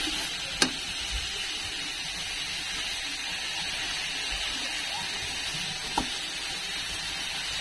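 Silver fish and vegetable curry with cumin, turmeric, chilli and coriander simmering in a pan, a steady soft sizzle and bubbling hiss throughout with a couple of faint clicks.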